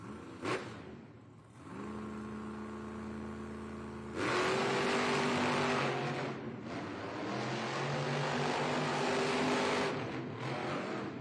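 Monster trucks race head-to-head in an arena, engines droning at a distance, then surging into a loud, sustained roar with rising revs that swells and eases, layered under a busy crowd atmosphere.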